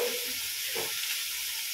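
Tomato pieces sizzle in a hot pan with a loud, steady hiss and faint stirring underneath, close up and unbroken.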